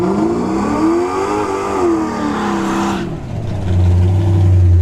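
An Elantra N and a Nitrous S10 face off in a drag race, engines revving loudly with rising and falling pitch before one launches and the other drones on at a lower, steady note, close by and without speech.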